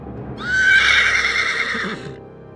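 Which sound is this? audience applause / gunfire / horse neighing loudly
horse neighing loudly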